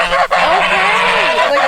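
Geese honking loudly and close by while chasing goats away from food, a couple of harsh, nasal honks running together with a brief break between them.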